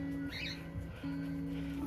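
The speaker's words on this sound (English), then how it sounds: "my birds," Pet birds in a garden let out a brief rising squawk that stands out over a steady background hum, followed by quieter chirps.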